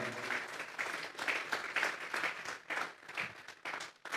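A church congregation at a Sunday afternoon service gives God an offering of applause, steady rhythmic clapping from many hands rising and falling in waves, fairly distant and soft, with no talking over it.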